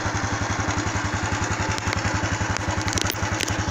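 A Honda Wave 110i motorcycle engine idles steadily right after starting, following a fuel pump replacement, with a loud, even, rapid putter and light mechanical clatter close by.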